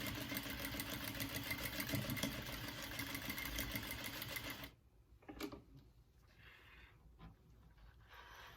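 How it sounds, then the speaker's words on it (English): A sewing machine runs steadily for several seconds while top stitching a zipper tab onto a fabric bag, then stops abruptly, leaving a few faint handling sounds and quiet room noise. "And then top stitch down that edge."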